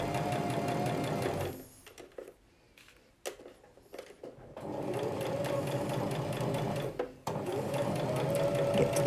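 A sewing machine stitches a straight seam on a gathered full circle skirt, a steady fast whirring hum that stops briefly midway with small clicks, then resumes at an even pace.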